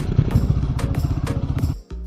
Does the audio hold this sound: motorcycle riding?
yes